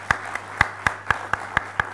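Sparse, slow clapping at a spiritual science conference, about eight distinct hand claps at a regular rhythm, close and fairly light, with no other voices.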